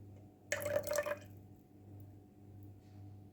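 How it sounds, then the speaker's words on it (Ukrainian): Juice from one lemon is squeezed by hand into a salad dressing of sunflower oil and grain mustard, giving a short wet spurt and dribble lasting under a second, quiet and close, followed by a low background hum. "Вичавлюю сік одного лимона"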